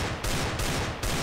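Scout sniper rifle shots in the video game Counter-Strike during a competitive match: three sharp, loud cracks in quick succession, each followed by a short rumbling tail.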